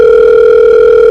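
Loud, steady telephone dial tone for a phone-a-friend call, one continuous unbroken hum held for just over a second before cutting off.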